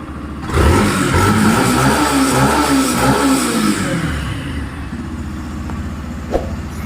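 A 2023 Yamaha FZ motorcycle engine starts and runs steadily close by, rising through a brief rev before settling into an even idle with no voices.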